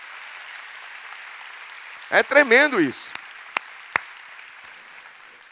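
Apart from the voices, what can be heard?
church congregation applause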